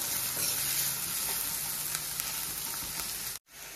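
Chicken lollipops fry in a hot pan with onions, a loud continuous sizzle with occasional stirring scrapes that cuts off abruptly near the end.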